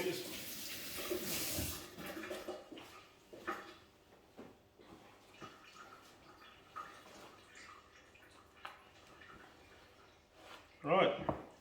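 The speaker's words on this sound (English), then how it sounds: "Just gonna rinse my fingers." Tap water runs briefly as fingers are rinsed at a home kitchen sink during dinner cooking, a short splashing burst near the start amid quiet clatter and a voice speaking.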